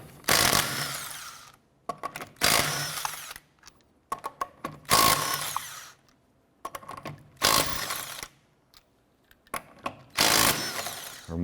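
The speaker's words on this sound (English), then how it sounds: "Using a 19mm socket, let's go ahead and remove our lug nuts" Power tool with a 19mm socket spinning off lug nuts from a Chevy Impala rear wheel, five separate loud whirring bursts at a steady rhythm with brief quiet gaps and small clicks between.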